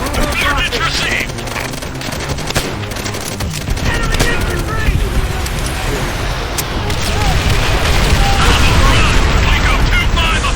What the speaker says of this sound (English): Get on those MGs and tear them up!